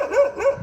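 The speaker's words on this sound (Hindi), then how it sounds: "ये मासूम नहीं है जो पीछे से मेरे को भौंक रहे हैं" A dog barks from behind on a street at night in Ramadan, two short yelping barks close by, alone without talk.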